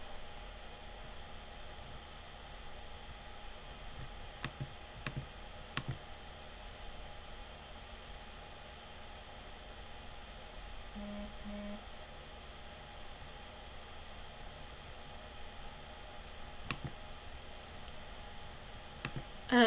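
Computer mouse clicks while working in a website builder, a handful of faint, sparse, sharp ticks spread over a quiet hissy background.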